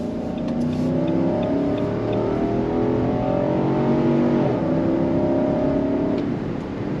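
A 2023 Nissan Armada Platinum full-size SUV accelerating hard on throttle, a steady loud engine drone with rising harmonics that climb, dip briefly as a gear changes, then climb again for about seven seconds with no talking.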